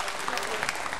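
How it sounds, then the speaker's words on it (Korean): A studio audience at a 1983 Korean television broadcast of separated-family reunions applauds to celebrate brothers reunited. Brief, dense clapping mixes with a voice talking over it. "여러분 축하의 박수를 보내주십시오"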